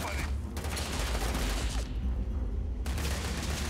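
Enemy gunfire rattles through a Starfield combat encounter in Cydonia. Rapid, dense bursts of shots come close and loud, with one brief lull in the middle before the firing resumes.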